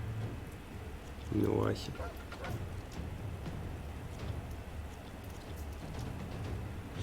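A rain-of-blood spell is cast in the video game Divinity: Original Sin 2, giving a steady patter like rainfall at moderate loudness. A brief tonal whoosh sounds early on, and a voice speaks over it.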